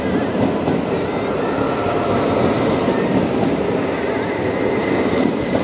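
A metro train rolls into a station, a steady loud rumble of wheels on rails with faint clicking and a thin squeal throughout, no voices.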